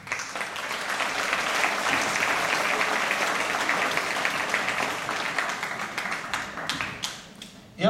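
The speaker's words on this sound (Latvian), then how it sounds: "Aplausim." Applause fills a cultural-centre hall during a festive awards ceremony as the coach-of-the-year nomination is announced, a steady, moderately distant clapping that thins into scattered individual claps toward the end.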